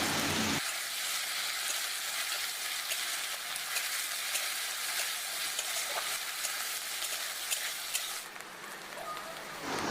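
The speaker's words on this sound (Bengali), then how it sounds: "আদা রসুন বাটা দিয়ে আরও কিছুক্ষণ ভেজে নেব।" Onion frying with ginger-garlic paste in a pan, cooking for a shrimp and taro-leaf curry, makes a dense, steady sizzle up close. It is spattered with small crackles and eases slightly toward the end.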